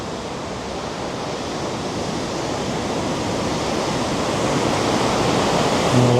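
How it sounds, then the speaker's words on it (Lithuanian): Water rushing into a lock chamber on the Wesel–Datteln canal in Germany, a broad steady roar of churning water that swells gently over several seconds with no voices. "Bet girdžiu, kad vanduo leidžiamas."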